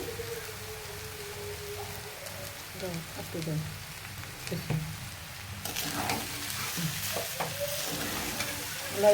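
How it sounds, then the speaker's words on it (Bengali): Chinese fried rice frying in a pan after extra oil is added, a continuous crackling sizzle with scraping stirs, and a voice talking faintly over it. "এটা চাইনিজের ভাত রান্না হইতেছে। আর একটু তেল দিয়ে দিতেছি।"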